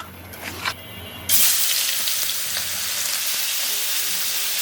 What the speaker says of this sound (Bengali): দিয়ে দেবো সরিষার তেল, হলুদ আর লবণ দিয়ে মাছটা ভেজে নেব।